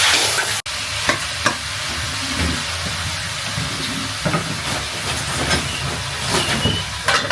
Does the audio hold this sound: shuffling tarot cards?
no